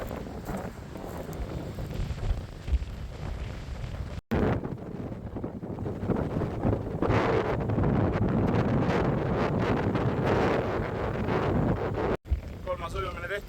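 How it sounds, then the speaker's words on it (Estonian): Gusty wind sweeps across a beach on Ruhnu Island, Estonia, buffeting the microphone in loud, uneven surges that rise and fall over a constant rushing background. "Natuke tuuline on ja õiglastes sõbrad ütleksid, et a little bit windy."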